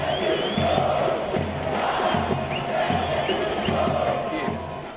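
A football crowd at a stadium match chants a player's name in repeated rhythmic calls, loud and continuous, with a dense roar of voices underneath.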